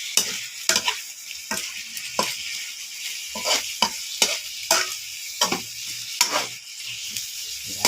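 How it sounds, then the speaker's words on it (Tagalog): Butter garlic prawns fry in a pan with a bright, steady sizzle, broken by regular rhythmic stirring scrapes and taps of a utensil, close and clear. "Butter garlic prawns po tayo, mga kababayan."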